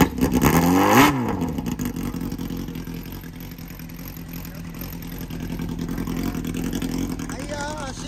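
A Kawasaki Z400FX motorcycle with swapped carburetors and an RPM muffler idles close by in a lumpy, steady exhaust drone. A voice talks briefly over it at the start, then the engine carries on alone.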